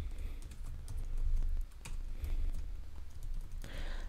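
Quiet, steady typing on a computer keyboard while code is written, soft rapid key clicks continuing throughout over a low background hum.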